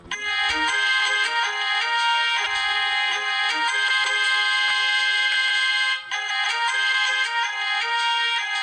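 A piano tune rendered in the bright, chiming Super Mario 64 sound font, a busy bouncing melody over a repeating left-hand figure, loud and clean with one brief gap.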